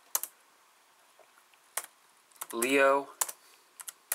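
Typing on a computer keyboard, with sparse, close clicks and short bursts of keystrokes, and a brief spoken word partway through.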